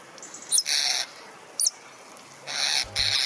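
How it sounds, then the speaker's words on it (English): European starling calls come as a few short, scratchy, high-pitched bursts with quiet gaps between them, faint and set against a soft background. "Typically, European starlings sound like this."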